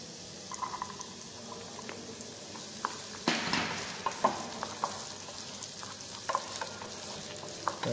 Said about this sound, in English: And we also cook together onion and garlic.